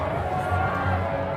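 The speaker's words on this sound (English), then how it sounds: "And you can hear the crowd in the background." Stadium crowd at a CSA T20 Challenge cricket match between the Dragons and Goldrush Boland, a steady broad roar of spectators filling the background with a low rumbling murmur, with speech likely present over it.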